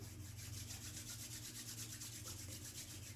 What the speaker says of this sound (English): Rubbing the hands together and creating a little bit of energy.